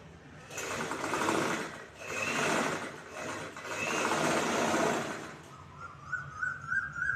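A sewing machine stitches along a V-shaped blouse neckline, running in three steady whirring bursts with short pauses between them, followed by a thin, high chirping tone once the stitching stops.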